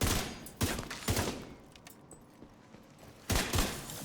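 An exotic assault rifle loaded with shock bullets fires in The Division 2, with short bursts of several loud rapid shots at the start, a quieter stretch, then another burst near the end.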